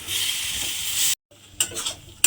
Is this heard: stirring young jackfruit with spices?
yes